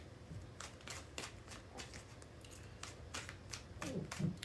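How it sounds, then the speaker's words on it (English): Tarot cards being shuffled by hand before a reading, a quick series of crisp riffling bursts and soft flicks at a close distance, with no talking. "3 more shuffles."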